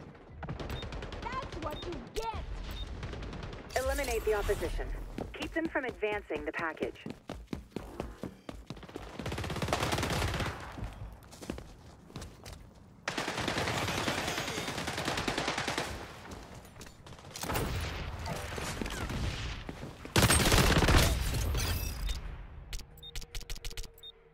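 Automatic gunfire in the shooter game XDefiant comes in loud, rapid bursts separated by short pauses, with someone talking between and over the shots.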